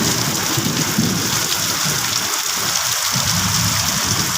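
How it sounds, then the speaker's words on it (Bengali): Heavy rain pours down hard and close, a thick unbroken roar with a low rolling rumble of thunder beneath it. "কত বৃষ্টি হচ্ছে।"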